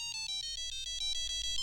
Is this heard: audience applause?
no